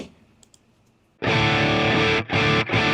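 After a few faint clicks, a thick, distorted electric guitar through a KT88 tube amp blares loudly for about a second, then two more heavy strummed bursts follow.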